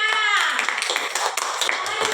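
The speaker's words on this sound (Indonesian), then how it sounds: "Silakan tepuk tangannya." Students in a classroom clap after a group finishes its discussion presentation: a short burst of scattered hand claps, close and moderately loud, with a voice speaking at the start.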